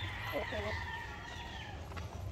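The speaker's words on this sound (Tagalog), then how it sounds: "Ito naman yung mga manok natin dito sa free range, ang lakas kumain ng sapal." Free-range chickens feed on sapal in a breeding pen, with soft clucks and faint calls at a distance under steady outdoor background noise while someone talks nearby.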